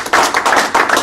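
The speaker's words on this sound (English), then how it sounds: "Let's give Sam a big clap." A few people clap briefly for a guest after a talk on marketing a personal-training business, close and loud, in quick uneven bursts that stop after about a second.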